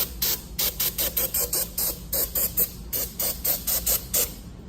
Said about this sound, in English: And then you want to spray it with some carb clean.